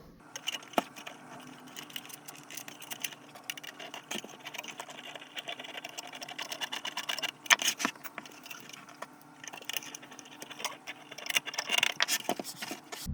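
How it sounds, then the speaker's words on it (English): Factory screws are driven in to secure an Android car stereo unit in a Toyota Prius dash, a close, busy run of whirring and ticking clicks with sharper knocks, steady throughout with no talk. "use the factory screws and just tighten it into place"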